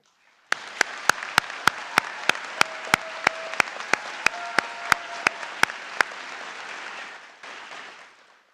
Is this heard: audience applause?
yes